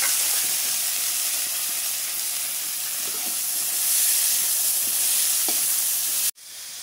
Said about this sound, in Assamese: এতিয়া মেথিকেইটা ফুটিলে মই তাতে কোমোৰাখিনি বহাই দিম।